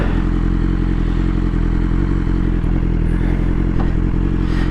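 A BMW S1000XR motorcycle rides over gravel, its loud steady engine drone mixed with constant crunching and clattering from the loose stones under the tyres, and no voices.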